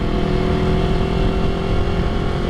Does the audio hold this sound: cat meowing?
no